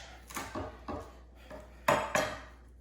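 Garlic cloves smashed on a kitchen cutting board to loosen the peel, a series of sharp knocks and thuds, with two louder blows near the end, close and without talk.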